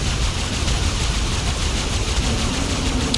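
Dense, continuous automatic gunfire in the survival game ARK, aimed at turrets, forming a loud, unbroken wall of rapid shots that is close and steady throughout, with no talking.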